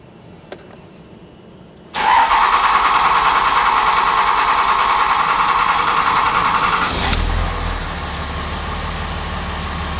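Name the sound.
car engine cranking during a long start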